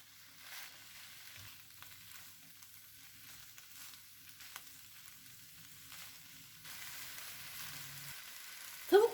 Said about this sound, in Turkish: Ve sotelediğim sebzelerin üzerine tavukları katıyorum. Hepsini karıştırıyorum.